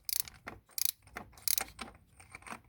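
A ratchet loosens a 32 mm screw on a 1.5 dCi engine with an oil leak, producing bursts of sharp, fast clicking in quick repeated strokes, close and alone.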